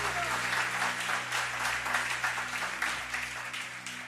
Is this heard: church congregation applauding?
yes